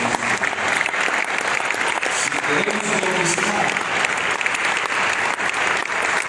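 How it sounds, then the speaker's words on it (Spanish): Sustained applause from a church rally crowd honoring Christ, dense and steady throughout, with a voice speaking over it. "¿Por qué no le das un aplauso a Cristo?"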